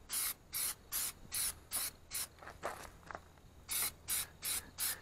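Short bursts of spray paint hiss onto a wheel, coating it John Deere green, about a dozen even pulses in a steady rhythm with a brief pause midway, close and fairly quiet.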